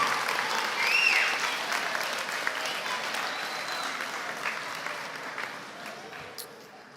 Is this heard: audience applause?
yes